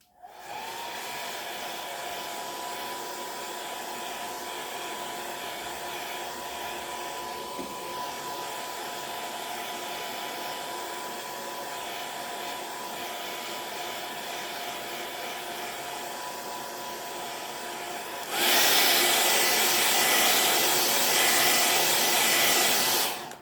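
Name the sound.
hair dryer drying paint on a chalk sign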